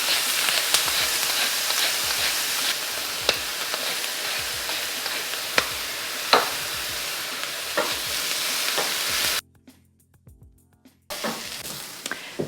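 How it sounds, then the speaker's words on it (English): Onion and garlic sauté in olive oil in a pan, giving a steady, close sizzle with occasional stirring clicks and scrapes; near the end the sizzle drops out briefly, then resumes. "While our onion and garlic saute"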